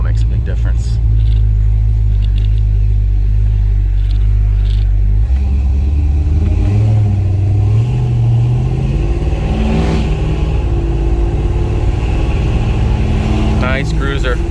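A 1955 Chevrolet Bel Air with a fresh 355 V8 and Turbo 400 automatic cruises with a deep, loud, close engine rumble that steps through gear changes, while someone talks over it.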